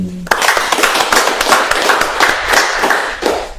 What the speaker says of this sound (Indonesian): Tepuk tangan dulu itu.